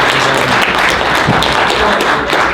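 An audience at an acting workshop gives a round of applause, a dense, steady wash of clapping hands that runs loud and unbroken for the whole stretch, with a few sharper thuds within it.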